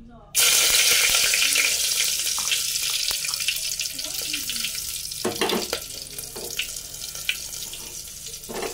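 Garam masala frying in hot oil in a pan just emptied of fried potatoes, steady close sizzling hiss with a few brief clinks and stirs, no talking.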